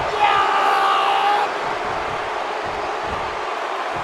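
A dense arena crowd roars in the WWE 2K wrestling game at a WrestleMania event in Atlanta, a loud, continuous wash of cheering that eases slightly partway through.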